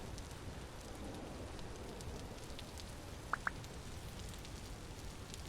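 Rain falls steadily in the video game Vintage Story, a soft continuous hiss of drops on surfaces with a pair of brief clicks near the end.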